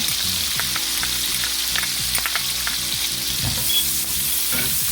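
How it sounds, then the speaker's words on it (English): Close, loud sizzling of garlic frying with a lot of onion, with a spoon repeatedly scraping and knocking against the pot in an uneven rhythm. "I like my spoon making that kind of sound on my pot."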